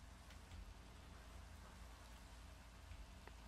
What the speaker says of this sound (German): der Regen ist ein bisschen ätzend